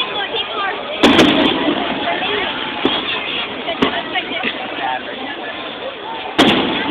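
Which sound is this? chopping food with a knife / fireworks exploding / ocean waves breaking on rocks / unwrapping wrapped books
fireworks exploding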